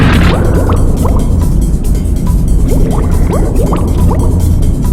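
Muffled underwater swimming in the Serious Sam HD video game: a dense, churning bubbling wash with rising bubble chirps and steady low rumble, loud and continuous throughout, no talking.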